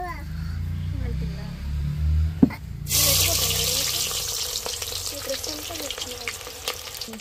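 Onions hit hot oil in a pan for mutton biryani, a sudden bright sizzle that bursts in after low rumbling and a clatter, then continues steadily with crackles and scraping stirs.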